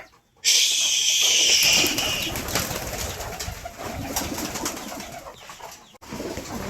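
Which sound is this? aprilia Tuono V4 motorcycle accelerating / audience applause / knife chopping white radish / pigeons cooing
pigeons cooing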